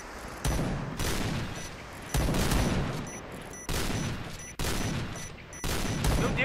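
Bursts of automatic gunfire in the online shooter Point Blank, several loud, sharp volleys of rapid shots with brief gaps between them, close and dense.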